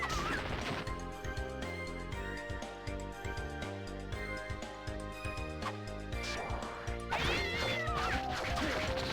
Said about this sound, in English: Soma just throws a cat directly at him.